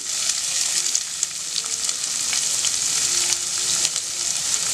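Cumin, green chillies and thinly sliced onion frying in hot oil in a pan for mixed vegetable kurma, a loud, steady close sizzle that carries on throughout with faint stirring clicks.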